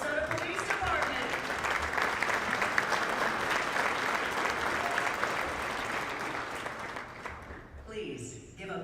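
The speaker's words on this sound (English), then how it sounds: "Please give a big round of applause to all of our officers of the year." An awards-event crowd honoring local police officers of the year breaks into loud, sustained applause with dense clapping for about seven seconds, then tapers off as a voice comes in near the end.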